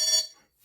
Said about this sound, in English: That's Marley's alarm. If you didn't know that, she has an alarm on her door to keep her safe.